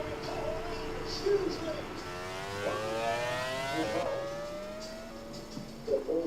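A Formula One car in the Grand Prix 4 racing game pulls out onto the wet track at Magny-Cours in France, its engine whining and rising in pitch over several gear changes, with commentary talk running underneath.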